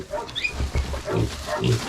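Several pigs grunting and squealing close by in quick, overlapping bursts, with low snorts between higher-pitched cries.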